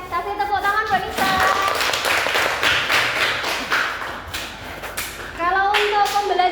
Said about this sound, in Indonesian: kasih tepuk tangan buat Nisa